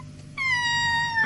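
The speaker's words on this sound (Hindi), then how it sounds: "मुझे लगता है इस बिल्ली को आप पसंद आ गई।" A cartoon cat gives a single drawn-out, rising-then-steady meow, loud and close, heard alone over a low background hum.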